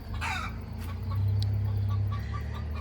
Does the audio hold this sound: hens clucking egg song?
yes